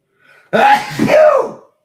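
A single sharp sneeze, close and loud, preceded by a faint intake of breath in otherwise quiet surroundings.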